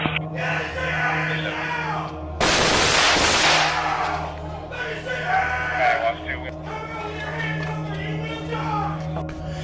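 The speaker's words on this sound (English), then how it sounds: "Hearing gunshots coming from the north bathroom" A sudden loud burst of gunfire cracks out inside a nightclub during a mass shooting, amid a tense background of shouting voices and commotion.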